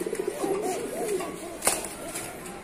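Pigeons coo at a pigeon farm in Natore, Bangladesh, their soft warbling calls repeating close by in an irregular run, with a brief sharp sound partway through.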